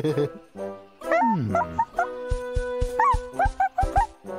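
A cartoon puppy in a bear animation yips, whimpers with a falling whine, then lets out quick bright barks and squeaky yelps, loud and close over a light musical backing.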